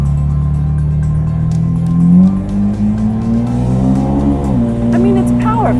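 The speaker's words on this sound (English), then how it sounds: "We're driving big horsepower in Tustin, California." A powerful supercar engine hums and revs while driving around a city block in Tustin, California, the pitch rising and shifting as it accelerates, heard from inside the car with people talking over it.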